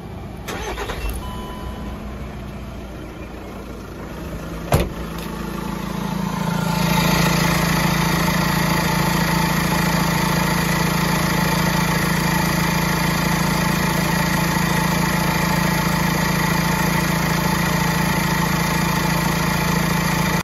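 A car engine with a blown head gasket cranks and starts after a short click, then settles into a loud, steady idle that runs on without pause.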